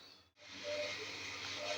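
Cold tap water streams steadily into a basket of ghevda beans, a continuous close hiss after a brief break near the start.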